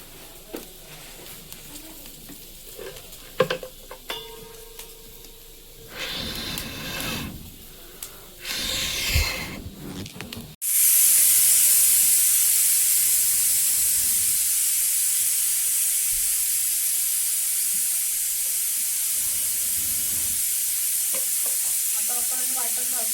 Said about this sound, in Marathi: वाटण भाजायचं आहे थोडंसंच, एकाच भाजीसाठी फक्त म्हणून